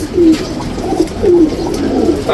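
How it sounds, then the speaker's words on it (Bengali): A female pigeon coos close by, a few low throaty rolling calls repeating in a slow rhythm over quiet background. "এই যে মাদি কবুতর"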